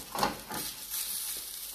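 Eggs and cheese sizzle in a frying pan, a steady close crackle with a brief louder burst near the start, heard alone without talk.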